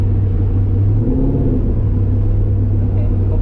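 A cammed LS-powered Z28 Camaro makes a 50 to 100 mph pull, giving a steady, loud low rumble from inside the car that holds through the whole stretch without a break.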